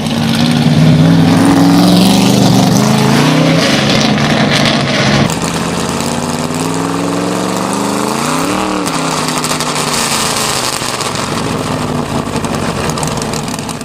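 A Chevrolet Corvette CERV III concept car engine runs loud and close, a dense droning roar that shifts pitch as it revs up and settles, continuous throughout with no voices.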